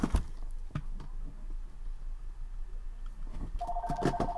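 A telephone rings near the end, a short electronic trill after scattered knocks and clicks over a dull background.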